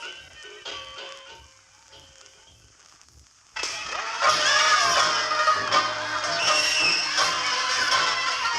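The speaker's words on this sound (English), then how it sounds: "I am talking to you now from the streets of Taipei, the capital city of Taiwan, standing among crowds of happy, shouting Chinese" Festive crowd noise on a Taipei street during the Double Fifth holiday, a dense, loud roar of shouting and chatter that bursts in after quieter festival music and then holds steady.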